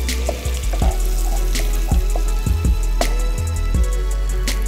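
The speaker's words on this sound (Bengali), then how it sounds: "আমি পেঁয়াজটা হালকা ব্রাউন করে ভেজে নিব।" Half a cup of chopped onion fries in hot oil for prawn khichuri, with a steady close sizzle and repeated knocks and scrapes as the pan is stirred.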